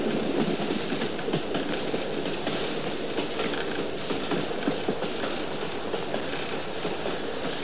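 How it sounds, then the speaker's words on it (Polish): A train speeding along its rails, giving a continuous rumbling roll with a rhythmic clickety-clack of wheels over the track joints, steady and fairly close throughout. "Słyszysz, Taratuszko, jak pociąg pędzi?"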